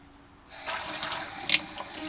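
Water from a pot filler faucet in a box truck van conversion, fed by a pressurized plumbing system. After a brief quiet moment, warm water gushes out in a steady rush with a few sharper splashes.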